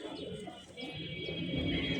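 A pair of large red-marked pigeons, a hen and a cock, coo softly and close by in a low, throaty burble, with loft noise around them and no talk.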